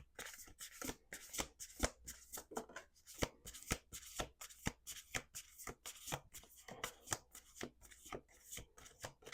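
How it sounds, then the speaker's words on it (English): A deck of oracle cards is shuffled over and over at close range, a steady rhythm of quick riffling bursts, each a crisp flutter of cards, quiet and with no talking. "last shuffle."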